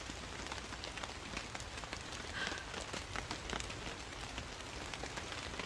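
Heavy rain pours down in the woods, a steady dense hiss of drops pattering on surfaces and a tent overhead, constant and enveloping with no voices.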